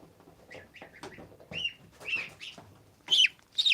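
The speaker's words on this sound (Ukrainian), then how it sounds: "Дивіться, яке гуся у нас є, правда?" A young gosling calls with soft, high-pitched peeping chirps in a string of short irregular bursts, close and fairly quiet, ending in a couple of louder peeps.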